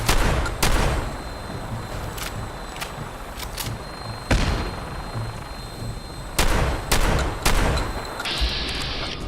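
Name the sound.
gunner vertibird firing rockets in Sim Settlements 2 video game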